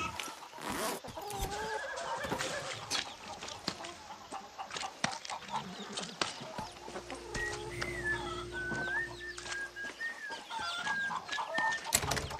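Chickens cluck and a rooster calls inside a farm shed in Far Cry 6, with a horse whinnying among scattered bird calls and rustling, fairly close and continuous.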